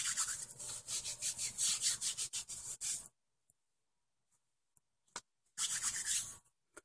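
Hand lotion is rubbed into the skin in quick, close, rhythmic strokes that make a soft rasping swish, then a pause with a few faint taps before another short burst of rubbing.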